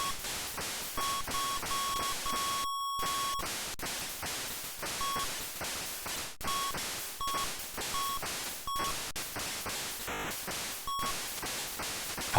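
Chiptune-style game music from the arcade 1942 on PlayChoice-10, a buzzy square-wave melody with repeating high beeps and short pauses, loud and steady over a noisy bed.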